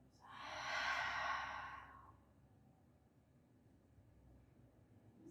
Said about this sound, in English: Exhale by the nose.